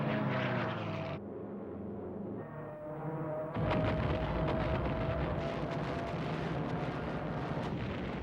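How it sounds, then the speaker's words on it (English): Japanese attack aircraft dive over Pearl Harbor in WWII, with a continuous engine drone that roars loud and near, drops briefly, then surges back in with dense, rumbling noise throughout. "As the Japanese aircraft dived into the attack"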